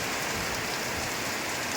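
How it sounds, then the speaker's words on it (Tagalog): Dense, steady downpour of heavy rain in Daet, Philippines, drumming on surfaces, a constant wash of noise with no pauses. "Malakas po yung ulan."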